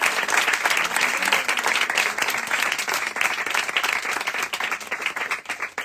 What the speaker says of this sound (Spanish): Un gran aplauso para Lola y todo su equipo